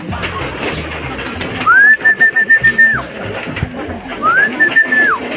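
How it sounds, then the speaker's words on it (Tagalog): Racing pigeons let out to fly by a breeder, with two long bright whistling calls over a busy outdoor background of flapping and bird noise, fairly loud and close. "magpapakawalan na tayo ng mga pang-mert natin mga kalapatids"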